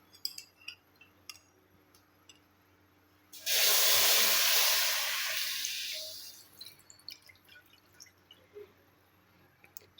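Juice poured into a hot iron kadai, a sudden loud sizzling hiss that bursts in, holds for a couple of seconds and gradually fades, with scattered faint clinks and drips before and after.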